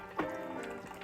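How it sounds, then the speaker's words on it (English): French press coffee poured into a cup, a soft brief liquid trickle and splash lasting about a second, quiet and close. "And now you pour your cup."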